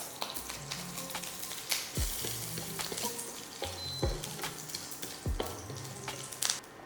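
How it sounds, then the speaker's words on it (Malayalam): Mustard seeds splutter in hot coconut oil for a mushroom theeyal, a faint sizzling bed scattered with small crackling pops and a few sharper snaps, fairly quiet and without speech. "ഇനി നമുക്കൊന്ന് കടുക് പൊട്ടിക്കാം."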